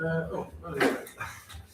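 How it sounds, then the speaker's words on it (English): A dog gives a brief whimper and a few short barks during a town council meeting, heard under ongoing talk from the people present. "Hold on, I'm just getting the dog."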